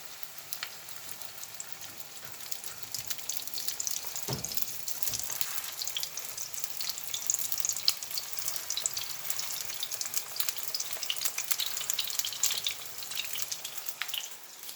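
Arepas bubble and sizzle steadily in hot frying oil, a continuous close crackling hiss that lasts throughout with one brief low knock partway through.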